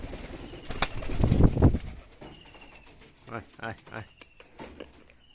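Pigeons coo softly close by, with a brief burst of wing flapping and scattered rustling before a few more low coos.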